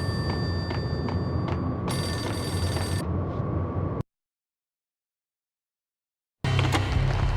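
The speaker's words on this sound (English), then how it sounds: "The payphone started to ring." A payphone rings in the video game Max Payne, loud repeated electronic bell trills for about four seconds before cutting to silence, then resuming briefly.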